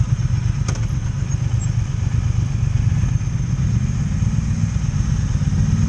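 A Triumph Speed Twin motorcycle engine runs steadily at idle close by, a low, even throbbing rumble with a faint mechanical clatter throughout.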